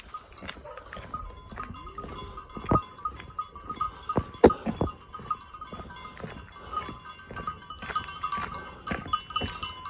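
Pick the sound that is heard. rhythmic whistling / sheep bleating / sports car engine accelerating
sheep bleating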